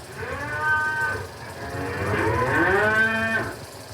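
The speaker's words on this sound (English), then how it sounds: "in the evening, Inger milks our 3 cows." Dairy cows on a Norwegian farm moo nearby, two long drawn-out lowing calls one after the other, loud and close with no talking.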